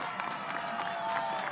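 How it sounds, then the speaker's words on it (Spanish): Crowd at a political rally in the Bío Bío region applauding steadily through a brief stretch, a dense wash of clapping with some cheering. "aquí Flor Baize, Marlene Pérez, un gran aplauso."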